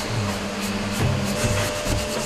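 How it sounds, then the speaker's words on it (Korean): Rough sandpaper rubbed by hand over carved wooden furniture in an Indonesian furniture workshop, with steady rasping back-and-forth strokes, close and fairly loud, and a low background hum. "조각이 된 가구의 구석구석 사포질을 하는 데는 섬세한 손놀림이 필요하다."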